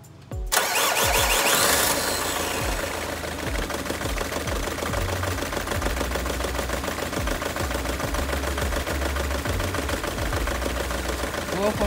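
A car engine cranks briefly, catches and starts, then settles into a steady, clattering diesel idle that runs on close by.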